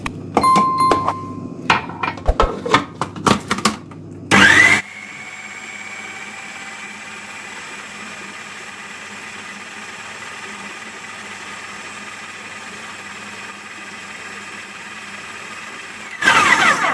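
Electric blender mixing basbousa batter with milk, with clatter and knocks from loading the jar first, then a steady whirring motor run of about twelve seconds before it stops and more handling noise follows.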